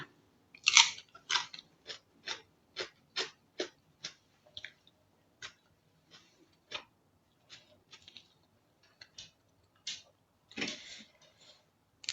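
Crunchy pounded radish salad, a spicy Thai dish made with daikon in place of papaya, chewed close to the mic; a dozen or more crisp, sharp crunching bites at an irregular steady pace, with no talk.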